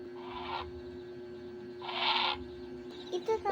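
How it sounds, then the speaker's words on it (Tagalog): Two distinct bird calls sound out a moment apart over a steady background hum, somewhat distant and moderately loud. "ito ang huni ng ibon."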